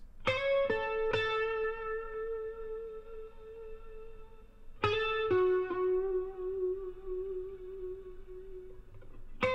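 An electric guitar plays a lead through a Line 6 Helix preset with an expression pedal, a few plucked notes ringing out long and sustained with chorus, echo and reverb, loud and alone.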